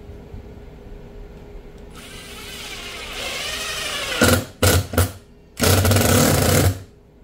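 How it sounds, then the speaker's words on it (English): Power drill driving screws into glued wood: a steady motor whir builds, then three bursts of loud, close grinding as screws bite in, the last one longest before stopping. "Now, we're gonna go ahead and run some screws through this,"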